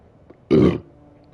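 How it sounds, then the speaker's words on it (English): A single loud, close burp lasting about a third of a second, heard alone between faint room noise. "I'm burping like a motherfucker."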